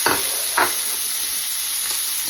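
Bell peppers dropping into a hot pan set off a steady, bright sizzle, with a couple of sharp clatters near the start as the pieces land and get stirred, continuing evenly and alone at close range.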